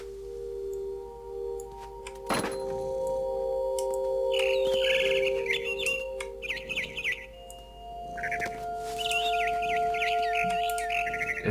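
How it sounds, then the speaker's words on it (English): Barn swallow chirping in the video game What Remains of Edith Finch: bursts of quick, bright twittering calls come and go over a steady low ambient drone, with a single sharp knock partway through. "It was a barn swallow going back to her nest."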